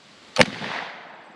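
A single sharp shot from a Ruger .40 carbine firing 125 grain lead-free hollow point rounds, a close, loud crack followed by a broad, fading outdoor echo.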